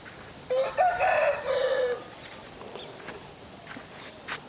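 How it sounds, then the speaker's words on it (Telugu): A ten-month-old Pingala breed rooster at a Bhimavaram fighting-cock sale crows loudly once for about a second and a half near the start, followed by quiet outdoor background with faint distant sounds. "ముందుగా మనం చూసుకుంటే ఇది కోడి పింగళ"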